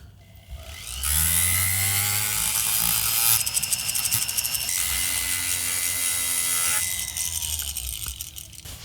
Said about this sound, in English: I have my rotary tool right here so that I can just round it off a bit